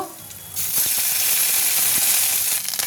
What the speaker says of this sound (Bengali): কড়াতে তেল দিয়ে দিলাম, একটু কালো জিরে দিয়ে দিলাম, একটু হিং দিয়ে দিলাম, তারপরে একটু আদা বাটা দিয়ে দেবো